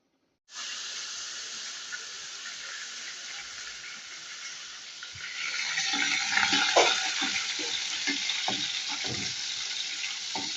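Green chillies, ginger, garlic, onions and cumin fry in hot oil with a steady loud sizzle, which grows busier partway through as the pan is stirred with scraping clicks; no one speaks.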